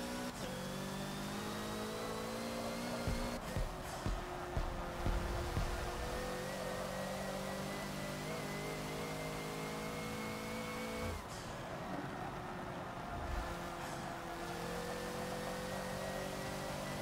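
A Hoonigan Ford Focus in Forza lapping Rio National Track: a steady, loud mid-pitched engine drone that rises and falls with throttle and revs, plus a few brief shifts and bumps, with no voices.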